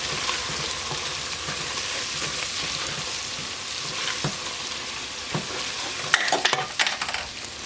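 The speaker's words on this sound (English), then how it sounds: "I'm going to stir this up really well." Onion powder seasoning mix being stirred in a pot of gumbo, with a steady sizzling hiss under scraping strokes that grow sharper and louder toward the end.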